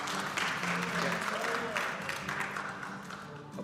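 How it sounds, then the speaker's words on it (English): Congregation applauding at an afternoon bar mitzvah service, a steady wash of clapping from many hands in the room with a faint voice or murmur underneath, tapering slightly toward the end. "Applause is not necessary"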